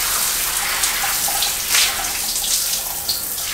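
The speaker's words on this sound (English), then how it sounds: "So I'm gonna go ahead and take a shower" Shower water runs steadily, a dense continuous hiss with faint splashing and dripping throughout, no voices, in a home during a hurricane in Cozumel.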